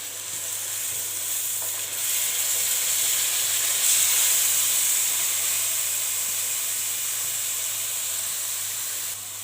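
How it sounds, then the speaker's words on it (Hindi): Masala and tomato paste frying in a pan for a fish curry, giving a steady, close sizzle and hiss that holds throughout with a slight swell midway and no talking. "जब मसाला भी अच्छा सा भून जाए तो ये हम टमाटर का पेस्ट हम इसमें ऐड कर रहे हैं। इसके साथ भी अच्छे से फ्राई करेंगे।"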